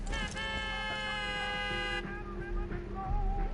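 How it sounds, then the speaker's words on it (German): A car horn in the video game Far Cry 5 blares a loud sustained tone for about two seconds, followed by short fainter toots under background game sounds. "Geile Hupe."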